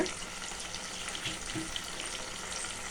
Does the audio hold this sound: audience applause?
no